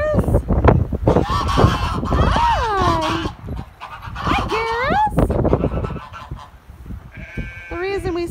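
Several geese honk loudly and repeatedly up close, rising nasal calls overlapping, with a voice speaking briefly amid the flock.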